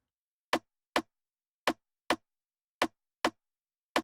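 Crisp stereo rim clicks from an Afrobeat groove, played alone in a syncopated pattern of seven short, dry, woody hits with clean silence between them.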